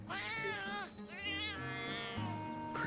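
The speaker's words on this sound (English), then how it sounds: "I like how Snake speaks cat" Repeated cat meows from Metal Gear Solid, a string of rising and falling mewing calls, fairly loud and close with no talking over them.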